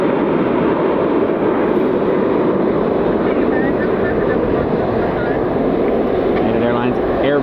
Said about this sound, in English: Airbus A319 heading out over downtown Columbus on their way out to Denver today